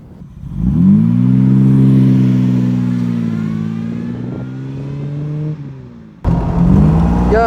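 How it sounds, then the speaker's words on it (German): A 1953 Aston Martin DB2 Vantage Drophead Coupé accelerates, its engine rising into a strong steady pull that holds for several seconds, eases briefly, then surges again, heard close and loud with no talk. "Ja, jetzt brauchen wir mal ein bisschen Gas geben. Motor zieht schön ab."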